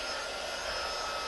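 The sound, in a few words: heat tool blowing hot air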